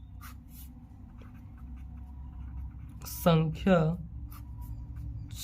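A pen scratches on paper in short, soft strokes near the start, followed by faint intermittent writing sounds. Someone speaks briefly in the middle.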